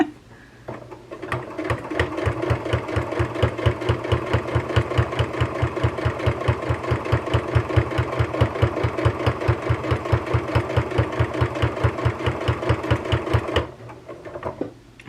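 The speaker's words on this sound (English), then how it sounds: "let's begin sewing. This would be called quilting, actually" Sewing machine quilting a small quilted hot plate, a steady rapid mechanical chatter of stitches lasting about twelve seconds, starting after a short pause and stopping abruptly near the end, close and clear.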